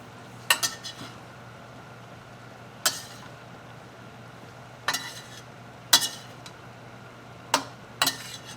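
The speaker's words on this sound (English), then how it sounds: "give it a good stir. Get your mushrooms and mix it all in." Mushrooms stirred into chicken in a pan, with a handful of sharp utensil clinks and scrapes against the metal spaced irregularly over a quiet low background hum.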